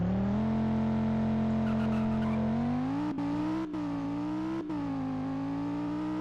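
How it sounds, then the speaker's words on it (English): Audi R8 with a V10 in the Greenville video game, a continuous loud engine drone that climbs steadily in pitch as it accelerates, broken by a few brief gear-shift dips. "let's go and do the Audi R8 next"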